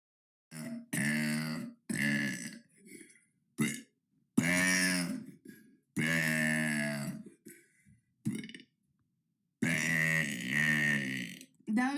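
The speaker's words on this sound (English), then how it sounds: "That was day 39 of burping for 100 days." Repeated loud burps, some long and drawn out, others short, come one after another close to the mic with short silent gaps between them.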